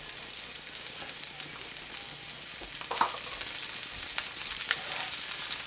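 Pork loin sears in a pan with a steady, close frying sizzle throughout, broken by a few brief sharper crackles and pops.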